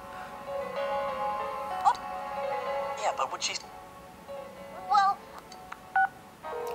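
Electronic phone dialing tones in the video game Persona 4 Golden beep in short, spaced bursts over a quiet, hollow background hum.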